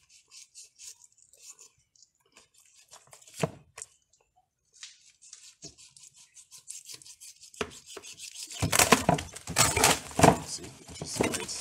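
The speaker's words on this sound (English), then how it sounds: "And you press the knife here, you break it down, you cut it." A knife chops and presses through a catfish head bone in sharp, scattered cracks and scrapes, sparse and quiet at first, then growing into louder, rapid crunching bursts near the end.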